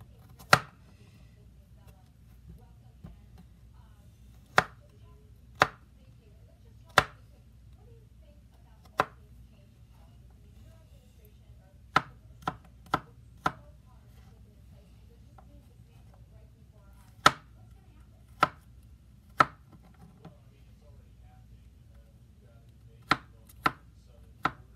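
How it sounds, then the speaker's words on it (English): Three garlic cloves chopped with a knife while cooking lasagna: sharp, close knife strikes on a cutting board, spaced irregularly with occasional quick clusters, over a quiet room with no talking. "Next is chop up these 3 cloves of garlic."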